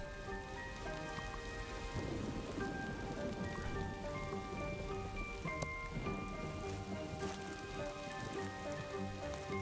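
Rain falls steadily in the video game Old Man's Journey, a dense continuous patter over a surface, mixed with sustained, uneasy background music and no voices.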